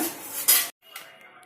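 A pan set down on a stove while making ghee rava poli: one loud metallic clatter rings briefly, then sudden silence and a faint rattle afterwards, with no talking.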